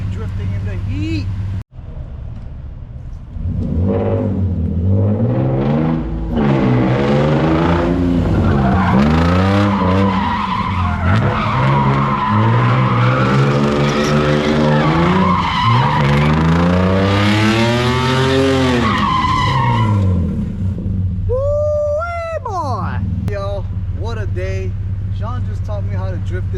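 A Nissan 350Z drifts on a circuit, its tires squealing in long wavering howls while the engine revs underneath, loud and close, finishing with a sharp squeal burst near the end.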